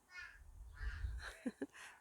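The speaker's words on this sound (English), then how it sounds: "Crows." Crows caw a few times at a distance, with a couple of sharper calls near the end against quiet background.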